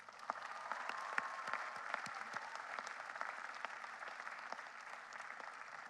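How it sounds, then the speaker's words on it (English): Graduates at an undergraduate commencement ceremony clap in sustained applause, a dense and fairly distant patter with a few louder individual claps standing out. "Give yourself a round of applause."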